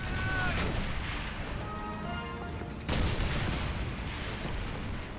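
Gunfire in the video game Call of Duty 3 cracks out in two loud, sharp bursts a couple of seconds apart, each trailing into a rumbling echo over a steady background din.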